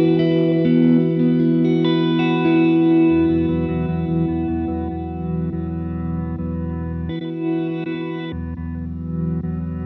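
Sustained guitar tones through a Chase Bliss Audio Mood pedal's reverb, drenched in reverb and modulation, notes ringing and blending into a washy, shimmering drone with shifting chords.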